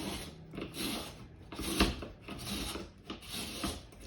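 Grated potato being pressed and scraped into a Tupperware hoops mould to form potato nests, giving a continuous gritty rasping and rubbing in repeated strokes, close up and fairly quiet, with no voices.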